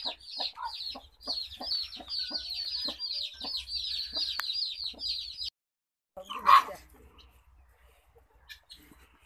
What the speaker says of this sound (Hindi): कितनी प्यारी कुकड़ है चूजे नाल निके निके